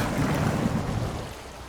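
Water cascades off the cab access steps of a Western Star truck stuck in a creek in the video game SnowRunner, a steady rushing wash that fades slightly toward the end.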